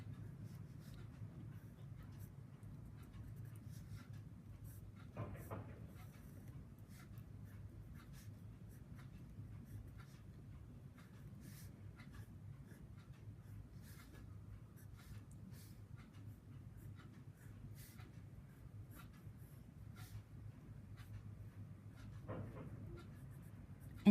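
A pencil sketches sofa details on paper in a quiet room, with faint, intermittent scratchy strokes and no speech.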